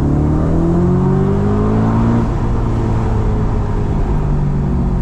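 A loud stage 2 Audi RS4 B7 V8 engine revs and pulls hard, its pitch climbing through the gears with a steady roar, close up and without voices.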